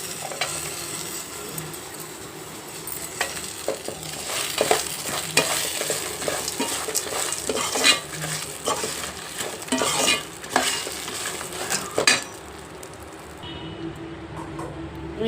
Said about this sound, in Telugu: ఎండుమిర్చి కూడా వేసి మిక్సీ చేసి మళ్ళీ మీకు చూపిస్తాను.